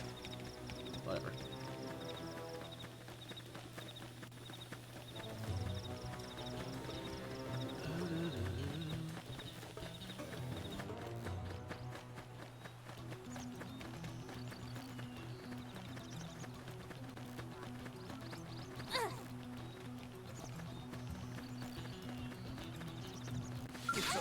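Rhythmic hoof clip-clops of a horse in Xenoblade Chronicles X Definitive Edition, running steadily alongside game music, with a person talking over it.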